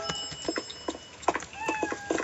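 Cat meowing several times in short repeated calls, fairly close and clear, at night outdoors with some background noise; no talking.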